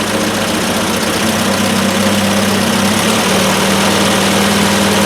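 A Triumph Spitfire engine idling at about 1,000 RPM, a loud, steady, close-up drone with a low hum and a slight shift in tone partway through.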